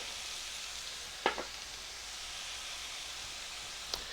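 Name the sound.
stirring hamburger with onions and paprika in a frying pan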